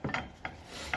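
Three short rasping strokes of a grinder or file working down steel for a heavy-duty steel and timber floating shelf, close and fairly quiet, with brief gaps between passes.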